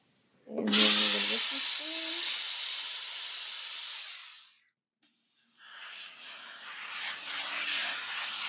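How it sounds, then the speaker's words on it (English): A steam iron hisses loudly as it steams a fabric table runner, a strong burst of several seconds that cuts off, then a quieter, rougher hiss resumes after a brief pause. "And then we're going to steam this because we want it to be really flat."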